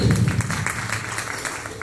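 An audience at a live fashion show claps in a dense, steady patter that fades slightly over two seconds, with no talking over it.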